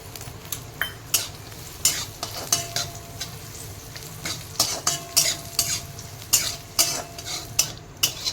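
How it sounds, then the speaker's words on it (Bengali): Cashews and raisins fry in ghee with a soft sizzle, while a spoon scrapes and taps against the pan in quick, repeated strokes. "আর এই কাজু আর কিশমিশটা ভেজে নেব"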